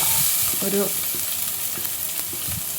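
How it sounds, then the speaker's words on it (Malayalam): Chopped onion with curry leaves frying in hot oil, a bright steady sizzle under soft scraping of a spatula, with an occasional faint clink of the pan. "ഒരു വലിയ സവാള അരിഞ്ഞതാണ്, അത് ആദ്യം ഇട്ട് കൊടുത്ത് അതൊന്ന് വഴണ്ട് വരുമ്പോൾ"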